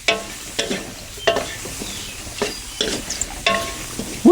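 Straw mushrooms with herbs being dry stir-fried in a pan over low heat, heard as a low sizzle under a series of rhythmic scraping and tapping stir strokes about once a second, close and fairly loud.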